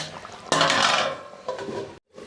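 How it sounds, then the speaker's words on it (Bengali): A metal lid is set onto a cooking pot of soybean gravy with a sharp clatter, followed by a softer second clink and a brief rattle in a quiet kitchen. "এখন আমি এটাকে ঢাকনা দিয়ে 2 মিনিট সিদ্ধ হতে দিই।"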